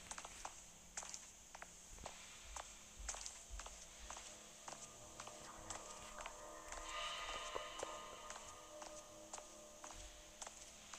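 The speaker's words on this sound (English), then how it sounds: "That's my footsteps." Footsteps in the horror game Slender Man: The Corridors, a quiet series of soft, evenly spaced clicks and taps repeating through the stretch against a low hum.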